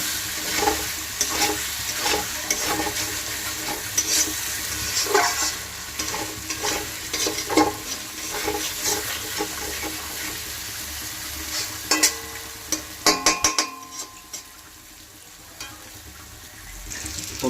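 Fried potatoes are stirred into sizzling masala in a pan for duck egg curry, a spatula scraping in repeated close strokes over a continuous hiss, ending with a few sharper clatters.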